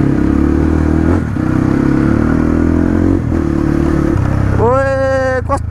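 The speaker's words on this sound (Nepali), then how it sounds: "स्पोर्ट बाइक चलाउँदा यो त कस्तो कस्तो लाग्दो रहेछ" A sport motorcycle being ridden gives a steady, loud engine drone throughout, with a brief dip in the middle and a rising rev near the end.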